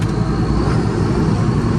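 A 6930 tractor towing a loaded muck trailer out to the field, its engine a loud, steady, close drone with a continuous low rumble and no pauses.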